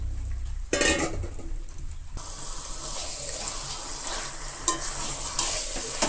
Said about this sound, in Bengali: এখন মশলা কষিয়ে নিয়েছি তারপরে মাংসটা দিয়ে দিলাম